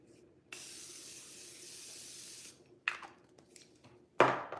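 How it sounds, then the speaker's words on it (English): A Morphe Continuous Setting Mist bottle gives one long, steady hiss of spray lasting about two seconds. Two short, sharp handling sounds follow it up close. "I'll use the second setting spray, which is by Murphy Continuous Setting Mist"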